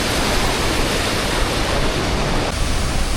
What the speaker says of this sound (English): You're going straight off that waterfall.